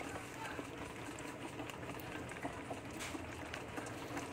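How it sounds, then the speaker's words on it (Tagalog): Coolant running out of the radiator drain plug of a Toyota Innova, a steady close gurgling pour that continues unbroken from start to finish with faint background noise. "Alisin lang natin itong drain plug para ma-drain na maayos yung ating radiator"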